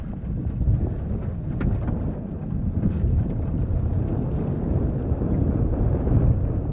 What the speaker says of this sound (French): On allume le moteur, marche avant.